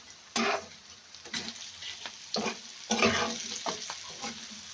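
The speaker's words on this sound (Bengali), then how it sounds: "মাছগুলো একদম ডুবো দিয়ে ভাজি করলাম।" Fish deep frying in plenty of oil with onion and chili, stirred in bursts: several loud spatula scrapes and sizzling swells over a steady background crackle, close by, with no talk.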